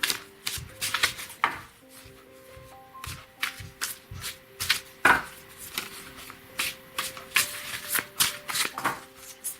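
Oracle cards are shuffled by hand in a quick, irregular series of crisp riffling and slapping bursts, close and clear with no talking.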